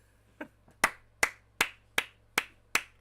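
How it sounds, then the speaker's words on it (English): Seven sharp, evenly spaced claps from a single person, close and crisp, with a faint steady hum underneath and no talking. "Round of applause for the name"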